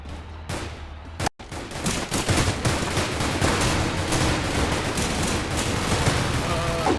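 A dense, continuous fusillade of rapid gunfire erupts in a video game shootout, loud and sustained with overlapping bursts after a brief cut to silence, and voices faintly mixed in.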